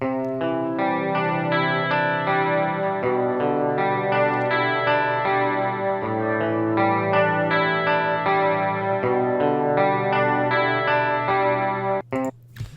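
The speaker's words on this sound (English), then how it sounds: "that's the guitar sample that I'm going to be using today" A guitar plays a looping melodic phrase drenched in chorus and echo effects, steady and clear for about twelve seconds, with a brief click at the end.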